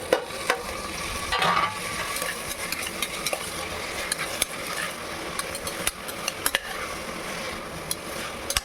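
Tomatoes fry with golden brown onions in a pan. A continuous sizzle is heard close up, with repeated scrapes and clinks of a spoon stirring against the pan and no speech.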